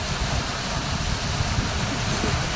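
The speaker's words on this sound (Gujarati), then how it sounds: "કૂવામાં બોરનું પાણી આવે છે." Borewell water pours steadily into a farm well on a cotton and vegetable farm, a loud, continuous broadband rush that stays close and unbroken throughout.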